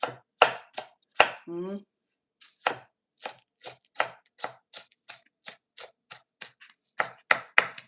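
An onion being chopped on a board for chicken egg rolls: a string of crisp, close knife strikes in a steady rhythm, with a brief pause after a quick vocal sound early on.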